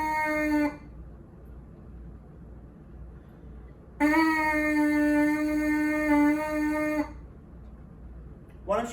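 A trumpet plays whole notes, each a steady, clear tone held for several seconds with silent rests between them, close and solo.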